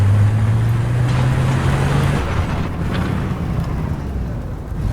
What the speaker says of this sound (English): I hear that freaking truck